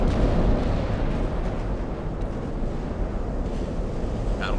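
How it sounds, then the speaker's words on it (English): Heavy naval guns fire on a battlecruiser in the warship game Ultimate Admiral: Dreadnoughts, heard as a dense, continuous low rumble of distant gunfire blended with wind and sea-like ambience, with no clear individual shots and no talk. "Let's keep firing at the battleship."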